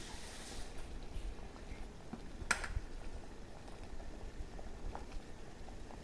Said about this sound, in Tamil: ஒரு 2 நிமிஷம் நல்லா கொதிக்கி விட்டுடலாம்.